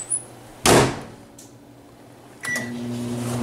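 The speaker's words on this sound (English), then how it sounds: "You're gonna set your microwave for 1 minute." A kitchen microwave oven set to melt butter: its door thumps shut, a short beep follows, then a low steady running hum begins, close by with no talking.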